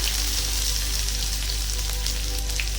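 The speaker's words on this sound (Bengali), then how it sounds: "এবার এই তেলের মধ্যে ছোট চামচের এক চামচ মৌরি দিয়ে দেবো আর হাফ চামচ জিরে আর আদা গ্রেট করে রেখেছিলাম" Fennel seeds, cumin and grated ginger frying in oil for a restaurant-style paneer masala, a dense, even sizzle up close with a steady low hum underneath.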